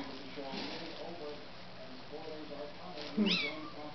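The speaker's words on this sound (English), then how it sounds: "have Toonces and Quint acting like crazy kittens." Two young kittens meow under ongoing human talk, with a brief louder mew near the end standing out from the speech.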